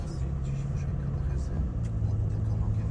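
A passenger vehicle pulls away along a straight road, producing a steady, close engine and road rumble throughout, with a faint voice murmuring underneath.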